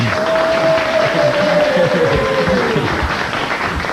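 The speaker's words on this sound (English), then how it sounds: "These guys brought their own cheering section, as we can well tell" A supporters' section at a 1989 telethon cheers and applauds, a dense steady wash of clapping and crowd noise, with a whistled tone gliding over it.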